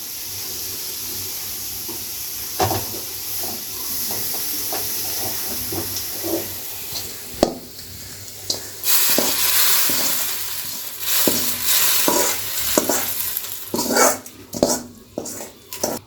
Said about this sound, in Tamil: இனிமேல் சாம்பாரில் தாளிச்சதை கொட்டிடலாம்